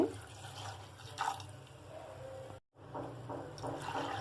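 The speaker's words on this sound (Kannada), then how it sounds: "ಈಗ ನಾನು ನೀರು ಹಾಕ್ಲಿಕ್ಕೆ" Water poured into soaked lentils in a pressure cooker pot, a steady close splashing and trickling that runs for a few seconds, breaks off briefly, then continues.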